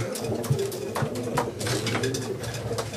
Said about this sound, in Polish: jest następny gołąb na blocie